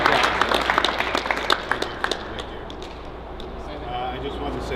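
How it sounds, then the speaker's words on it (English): A morning league gathering for umpire training bursts into applause, a crowd clapping loudly at first and then tapering off over several seconds, with no talk in between. "Let's give him a round of applause."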